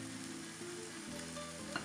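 Olive oil sizzling in a pan with onion, garlic and smoky paprika, a steady close crackle with no voices.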